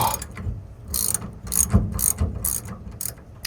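A ratchet wrench working loose the rear shock nut on a 2001 Dodge Ram 1500: quick, rhythmic clicking bursts repeated about every half second, close and fairly loud.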